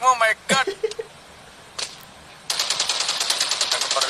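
Gunfire in a shooter video game, a few sharp isolated shots followed by a rapid automatic burst, close and loud, with a voice briefly heard at the start.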